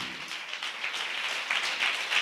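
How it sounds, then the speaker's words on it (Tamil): A church congregation claps together in a dense, continuous wash of applause that fills the room for a couple of seconds, steady and fairly loud. "நல்லா கைத்தட்டி தேவனை மகிமைப்படுத்துங்களேன்"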